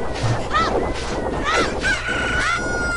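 A chicken in a desert area of Zelda Ocarina of Time gives a few short, squawking calls about a second apart, clear and near over a steady background hum.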